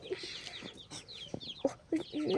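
Several chickens clucking at close range in short, irregular calls, with busy bird chirps behind them and a few louder bursts near the end.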